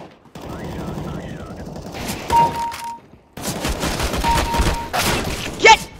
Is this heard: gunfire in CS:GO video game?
yes